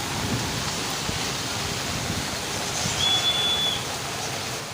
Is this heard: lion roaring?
no